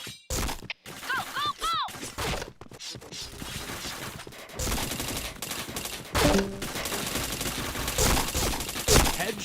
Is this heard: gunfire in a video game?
yes